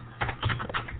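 Quick keystrokes on a computer keyboard as a search term is typed during an online presentation, a short irregular run of close, soft taps over a faint hum, without any talking.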